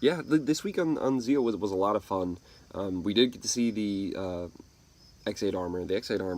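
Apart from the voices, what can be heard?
No distinct noise like a dog, phone or traffic.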